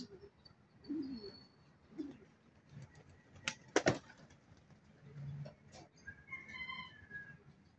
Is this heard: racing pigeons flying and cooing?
yes